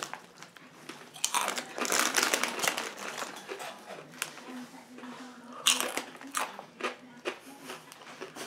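Crunchy chewing of spicy chilli Hoola Hoops crisps, close and crisp bites repeating irregularly over a quiet room background.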